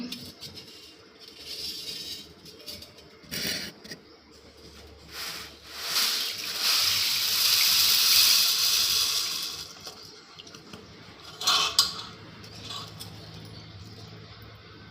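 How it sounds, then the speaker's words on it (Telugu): Water poured over horse gram to soak it, a steady rushing splash that swells in the middle and trails off, with light clinks of a vessel around it and no talking. "ఉలవలండి వాటర్లో వేస్తున్నాను"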